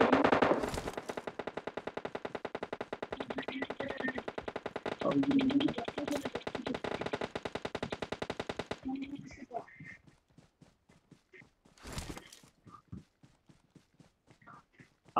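Rapid automatic gunfire in the mobile battle royale game PUBG Mobile, a long dense burst of shots followed by scattered single shots and quieter footsteps, with a voice talking briefly near the start.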